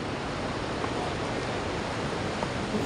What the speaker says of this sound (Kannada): ಸೀತಾಪುರಲ್ಲಿ ಎಷ್ಟು ಜರಿ ಹರಿಯುತ್ತೆ ಅಂತ ಅಂದರೆ ಲಿಟ್ರಲಿ ಅದನ್ನ ಸೌಂಡ್